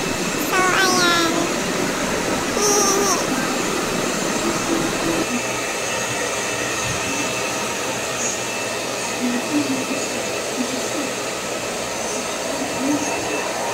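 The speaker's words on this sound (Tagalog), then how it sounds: "first time po ni Soren mag-blower sa hair ko" A hair dryer blows on someone's hair at home, a steady close broadband whoosh running the whole time, with a voice and other talk briefly over it near the start.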